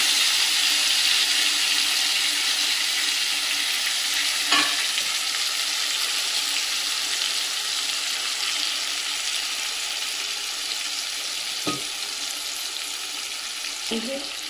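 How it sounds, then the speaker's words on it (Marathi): Steady loud sizzling of stuffed eggplants frying in masala in a pan, with a few brief scraping clinks of stirring now and then; no talking. "अशी वांगी चांगली हलवून घ्यायची"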